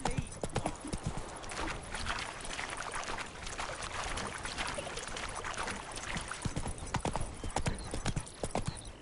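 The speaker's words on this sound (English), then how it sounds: "Whoa there, Roach." A horse gallops in The Witcher 3 on the Death March difficulty, its hooves beating a rapid, continuous clip-clop close by, with faint game ambience underneath.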